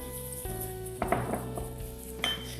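Eggs and sugar being stirred together in a pan, with steady scraping and clinks of a utensil against the metal and a few sharper knocks mid-way, close and fairly quiet.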